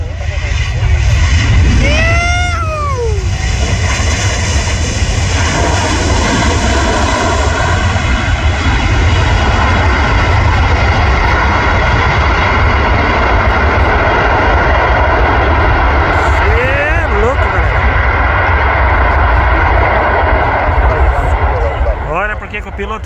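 An Emirates Airbus A380 arriving at Guarulhos airport roars loudly and steadily overhead with engine whine throughout, while a crowd of onlookers talks and shouts nearby.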